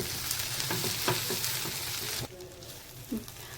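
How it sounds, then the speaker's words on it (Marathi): Onion, mint and coriander fry in a pan for mutton rassa, giving a soft crackling sizzle with occasional stirring taps that drops quieter partway through. "आता हे सुद्धा आपण या कांद्याबरोबर भाजून घेणार आहोत"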